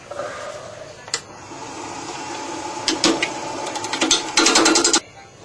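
Chuck on a wood lathe being tightened for a tilted bowl, giving a run of small metallic clicks and ratcheting rattles that build into a denser burst near the end, close and fairly quiet.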